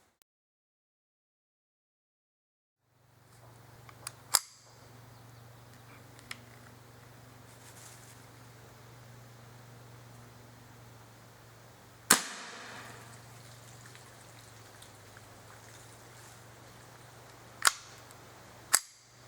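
CCI CB Short .22 LR subsonic rounds fired into water give a few sharp, quiet cracks spread apart over a low steady background hum outdoors.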